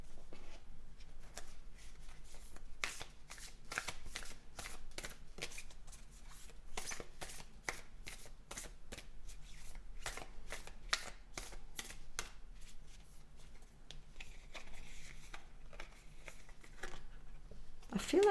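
Tarot cards are shuffled close by in a long run of quick, crisp riffling slaps at an even rhythm, quiet and alone, with a faint extra noise near the end.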